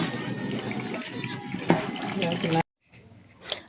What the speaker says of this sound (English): The first step, they wash your hair with cold water.